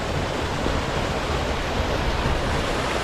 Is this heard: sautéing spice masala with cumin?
no